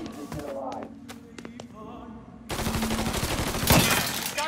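Gunshots in the Mafia 3 video game ring out in a few sharp cracks, then give way to a dense, loud fusillade of shooting and impacts in the second half.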